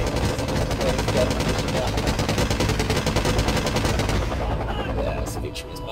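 Rapid, sustained automatic gunfire from the side gun of a landed helicopter in the Wargame: Airland Battle game, a dense rattling burst that runs loud for about four seconds and then cuts off, leaving fainter scattered battle noise.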